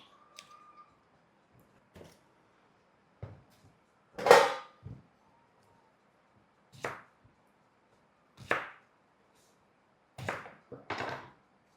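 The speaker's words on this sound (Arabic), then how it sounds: "فأول شي راح نقطع الباذنجان، ننظفها هيك." Knife cutting through an eggplant, with a handful of separate sharp chopping thuds scattered across the passage, each one brief and near, with quiet pauses between them and no talk over them.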